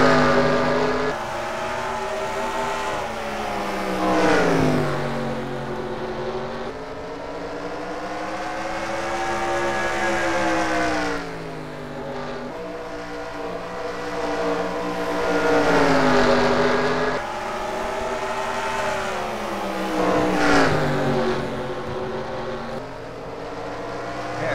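Race cars lap Bristol during a hot heat race, engine notes rising and falling in repeated sweeping passes, loud and continuous with no talk.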